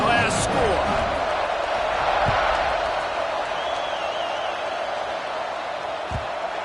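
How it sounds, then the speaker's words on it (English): A football stadium crowd at a college game between JMU and Oregon keeps up a broad, steady roar just after a score, loud and continuous, with a whistle-like tone briefly rising above it. "this crowd is buzzing after that last score"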